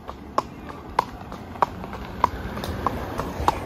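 Horse hooves clip-clop at a steady walking pace while out hacking, six or seven crisp, evenly spaced knocks on a hard surface over faint background noise.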